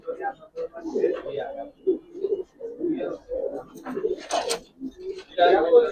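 Close, soft coos from Giribaz pigeons in a loft rise and fall under someone talking continuously, with a couple of brief sharp rustles or flaps.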